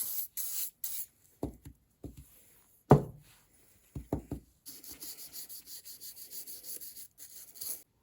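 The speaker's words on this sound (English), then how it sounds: "I used 220 grit sandpaper to sand down this handle" A WWII-era Robeson Cutlery pocket knife handle is sanded with 220 grit sandpaper, with a few short, separate rasping strokes followed by a steadier run of quiet, rhythmic rubbing, close and without talk.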